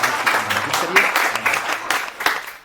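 Audience applause at a Hindi comedy poetry gathering welcoming a satirical poet, dense clapping with a few louder bursts that fades toward the end, speech-like murmur mixed in.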